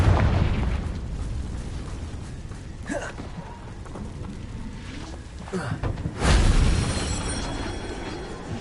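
A Confringo fire spell from the video game Hogwarts Legacy bursts with a short explosive boom about two-thirds of the way through, amid busy game ambience and effects.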